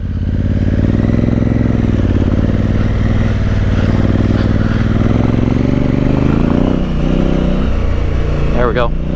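A Honda Africa Twin motorcycle engine drones loud and steady while climbing a hill on held throttle along a dirt adventure route, with a rider's voice over the constant engine.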